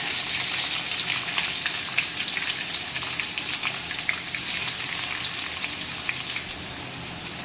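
Shallots fry in hot oil in a pan for a spicy mutton gravy, giving a loud, steady, dense sizzle with crackling and popping throughout and no talking.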